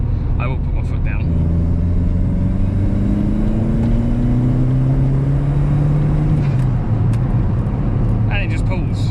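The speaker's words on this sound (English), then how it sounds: "So we're in 4th gear and I'm not going to get a good run here, but I will put my foot down." A Mk3 Golf GTi with a 1.8 turbo accelerating in 4th gear, engine drone rising steadily in pitch under a constant road rumble inside the car, with someone talking over it.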